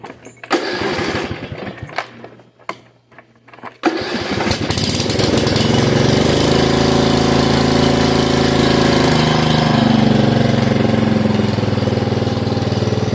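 A Craftsman R110 riding mower engine cranks with a few sputters, then catches and settles into a loud, steady running drone that continues to the end.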